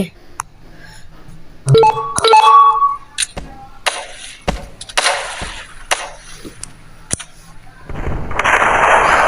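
Explosions and gunfire-like bangs in the video game Melon Playground burst at irregular intervals, some sharp and close, ending in a sustained roaring rumble.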